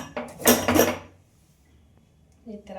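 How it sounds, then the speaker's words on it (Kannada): A pressure cooker lid being opened in a home kitchen, giving a short burst of metallic clanking and scraping up close, then quiet with a faint clink at the end. "ಈಗ ಕುಕ್ಕರ್ ಮುಚ್ಚಿ ಓಪನ್ ಮಾಡ್ತಾ ಇದ್ದೀನಿ."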